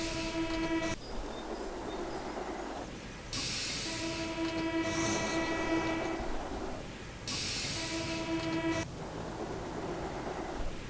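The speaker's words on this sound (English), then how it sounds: "He wants a tram, so we'll do a tram." Trams run on a network in the Cities in Motion simulation game, US cities campaign, giving a steady rumbling rail-vehicle drone with hissing and tonal whistle-like bursts that rise and fall across the scene, no talking.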